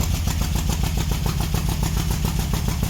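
A 1969 VW Baja Bug engine with a spark plug wire off runs loud and close, its idle lumpy and uneven like a three-cylinder, with a steady pulsing misfire rhythm throughout.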